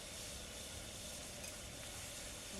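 Garlic and asafoetida frying in hot oil in a village kitchen: a steady, even sizzle and hiss that holds without a break, soft and close, with no one speaking.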